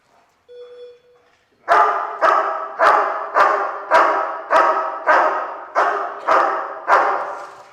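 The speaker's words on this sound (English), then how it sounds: "this time we'll do a little bit longer duration of barking" A dog barks on cue in a steady rhythmic run of about ten evenly spaced, loud, close barks, preceded by a brief high electronic tone and a short low sound.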